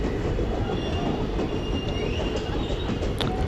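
A passenger train rumbles along the rail line between Kulem and Madgaon in Goa, heard up close as a dense, continuous roar of wheels on track with faint metallic squeals.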